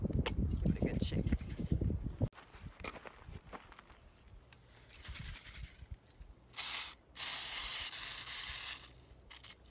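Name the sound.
spray can of Rust-Oleum stone textured finish spraying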